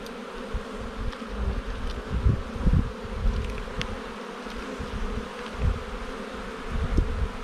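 A honeybee swarm hums in a hive box being opened, a steady low buzz of many bees with louder passing swells close by and faint handling noises.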